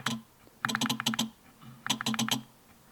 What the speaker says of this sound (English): on Lumix camera, when you change the aperture, when you're shooting photos or video, it makes clunking sounds